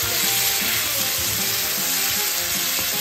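Chopped tomatoes sizzle and fry steadily in a hot pan for pinakbet, a loud continuous crackle with faint stirring scrapes underneath.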